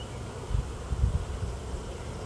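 Honey bees swarm around an opened hive, a week-old nuc install with a second box just set on top, giving a faint, steady low buzz with a few soft thumps and rustles, no talking.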